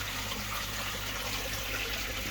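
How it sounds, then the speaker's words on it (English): Pond water pours steadily into a bucket at a koi pond, a continuous close splashing rush with no pauses and no voices. "so I've added pond water to it now"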